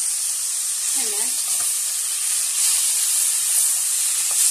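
Tomatoes and garlic sautéing in a pan with eggplant and potato for a kebab dish, giving a steady, bright hiss and sizzle, with a brief faint voice early on.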